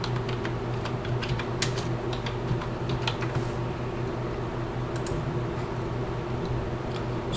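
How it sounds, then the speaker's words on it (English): A computer keyboard typed on for a search: rapid light key clicks in an irregular patter, under a loud steady background hum with no talk. "type in what you're looking for"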